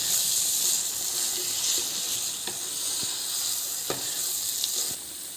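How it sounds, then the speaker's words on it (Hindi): Carrot halwa roasting in ghee gives a steady close sizzle, with a few sharp scrapes of a spoon stirring through the pan and no voices. "अब हम 1 चम्मच घी डालकर थोड़ा भूनेंगे"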